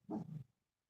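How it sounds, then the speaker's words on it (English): A dog gives a short, low growl, brief and close, then goes silent. "Lucky. Hey, if you don't stop growling, you're going in the kennel."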